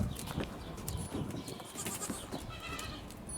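Rare white Aleppo (Halep) goats bleating on a farm in Antalya, with scattered bleats, shuffling and clattering hooves amid busy barnyard noise.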